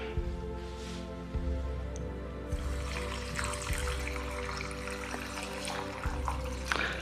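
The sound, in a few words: water poured into container for kanji drink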